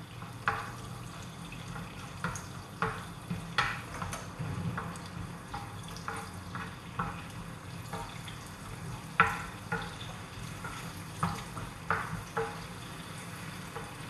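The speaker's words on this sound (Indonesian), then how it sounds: "Tapi kismis dengan gajus ni macam mana goreng dulu" Raisins and cashews fry in a pan for nasi tomato, with soft sizzling under a regular run of scraping stirs and clicks from a utensil against the pan.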